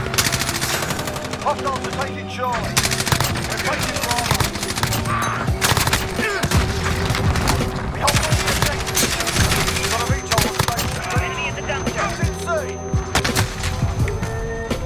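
Sustained automatic M4A1 rifle fire in the Modern Warfare video game, loud rapid bursts with brief pauses continuing throughout, alongside other game sounds and explosions.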